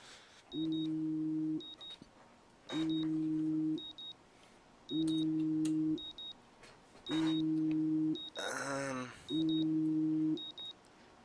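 An alarm clock in the video game Life Is Strange beeps in repeated electronic bursts, each about a second long and evenly spaced, with a short rustle between two of them before it stops.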